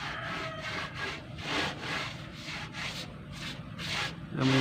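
Body filler on a car panel sanded by hand with sandpaper, a steady run of rasping back-and-forth strokes, close and fairly loud, with no talking.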